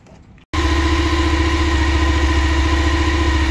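A crashed motorcycle with an exhaust leak starts up after a brief quiet moment and then runs loud and close at a steady idle, its rapid pulsing exhaust beat continuing throughout, alone with no talking.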